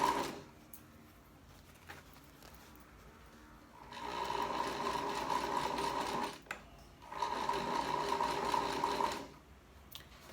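A sewing machine stitches fabric for a cachepô plant-pot cover in two steady whirring runs of about two seconds each, separated by brief pauses and quieter handling of the cloth, with no talk.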